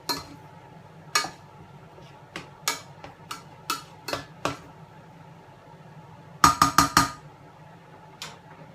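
Metal utensils clink and tap against a pan as mushroom accompaniment ingredients are mixed, giving sparse, irregular knocks with a quick cluster of four near the end, over a low steady background.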